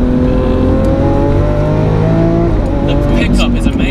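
A 2018 Lamborghini's engine drones loudly from inside the car, its pitch climbing steadily under hard acceleration while driving, with a voice speaking over it near the end.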